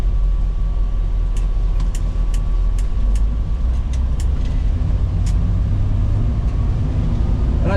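A one-owner 1968 Chevrolet C10 long-bed pickup cruises along with a loud, steady low engine rumble and road roar, while a series of faint ticking clicks, like a turn signal, sits above it.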